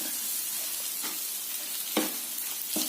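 Beef being stirred dry with ground black pepper in a pan: a constant soft frying sizzle broken by a few sharp scraping strokes of the spoon against the pan.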